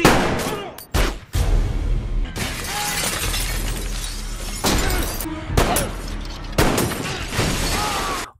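Loud, rapid bursts of gunfire with sharp cracks and breaking debris, dense and continuous with a couple of brief gaps, from an intense shootout in the film Shooter (2007).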